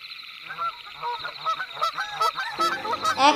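Chickens cluck at night in a string of repeated squawky, honking calls, fairly close and at moderate volume.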